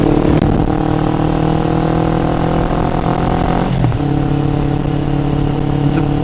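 A motorcycle engine drones steadily and loudly while riding up a twisty, rough mountain road, its pitch dipping briefly as the rider shifts before the engine pulls on again.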